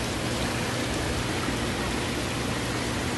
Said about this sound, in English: Yeah, waterfall.